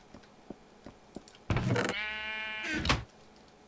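A Minecraft sheep gives one loud, close bleat lasting about a second and a half, preceded by faint clicks of gameplay.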